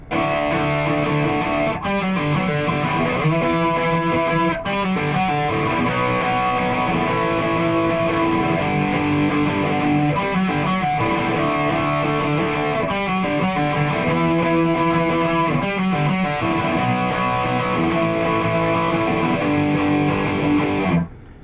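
An electric guitar plays an intro riff slowly and steadily with a slightly gritty tone, picked notes and chords continuing without pause, no voices.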